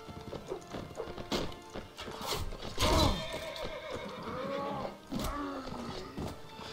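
A horse neighs loudly in a Mount and Blade Warband multiplayer battle, a clear whinny surrounded by clip-clopping hooves, clashing hits and busy combat noise.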